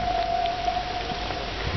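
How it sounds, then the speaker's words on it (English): Rain falling outdoors in the countryside, a steady close patter of drops with no other sound on top. "Currently I caught up with the rain."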